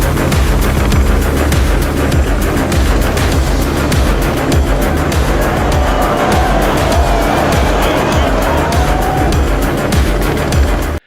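A Dodge Demon 170 roars at full throttle down a quarter-mile drag strip, with steady, loud engine noise and tire squeal running unbroken for about eleven seconds before cutting off abruptly.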